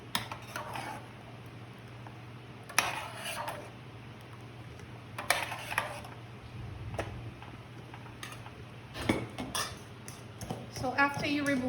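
A metal slotted spoon clinks and scrapes against a pot at intervals, lifting plantains from boiling liquid, with a steady low hum and bubbling underneath.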